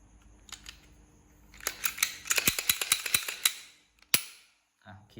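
A Glock pistol is cleared by racking the slide: a quick close-up burst of sharp mechanical clicks and clacks, then one loud snap near the end, with a brief voice after it.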